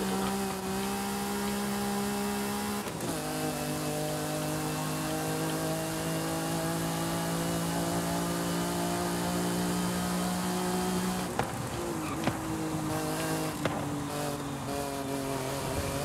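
A car engine in the racing game Forza Horizon 5 drones steadily at high revs with sustained whining tones, shifting pitch a couple of times as gears change, loud and constant with no talk.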